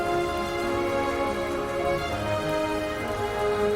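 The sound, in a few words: rain falling in the video game My Time at Portia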